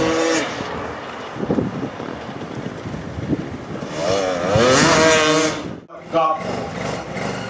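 Racing motorcycle and ATV engines revving and accelerating on a tight, twisting track, a loud buzzing snarl that rises in pitch, with wind buffeting the microphone and a commentator talking over it.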